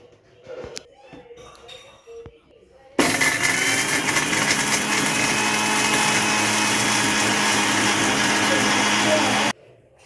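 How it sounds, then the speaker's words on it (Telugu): An electric mixer grinder whirs loudly and steadily, grinding seeds and sugar into chocolate powder for about six seconds before cutting off abruptly, after a few quieter kitchen sounds and brief talk. "ఇప్పుడైతే ఇవన్నిటిని ఇలా మిక్సీలోకి వేసుకుందాం"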